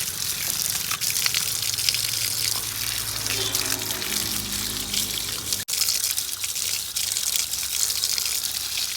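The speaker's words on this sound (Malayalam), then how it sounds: "നമുക്ക് കഴുകാൻ ഇഞ്ചി." Freshly picked ginger is washed under running water, a steady close gushing splash with some shifting trickles and a brief break in the flow, while a voice speaks faintly in the background.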